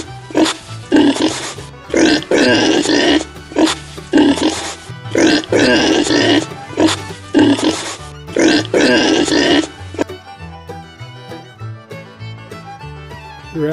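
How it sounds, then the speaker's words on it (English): A pig grunts loudly and close in a series of rough, repeated bursts with short gaps. The grunts stop near the end, leaving a few quieter tones. "Pig."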